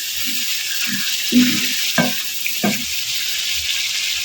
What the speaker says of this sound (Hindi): अब हम ज़रा सा चमचा हिलाएंगे।